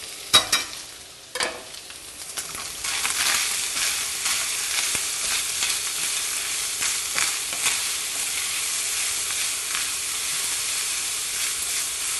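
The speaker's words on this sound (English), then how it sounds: "While those onions and garlic are sweating down" Onions and garlic sizzle and sweat in a hot pan for gameday sliders, a steady close frying hiss after a few opening clatters of stirring.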